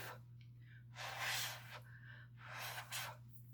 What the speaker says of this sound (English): you can, blow on it with your breath, a little air on that to get the extra chalk off